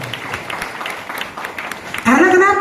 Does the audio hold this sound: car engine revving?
no